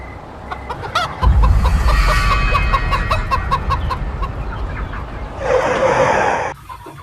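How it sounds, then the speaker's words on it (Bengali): A cartoon chicken that escaped from a vehicle clucks in a ghost animation: a run of sharp, close clucks over a busy background, ending in a louder squawking burst before cutting off. "একটা মুরগি বাইরে বেরিয়ে গেছে"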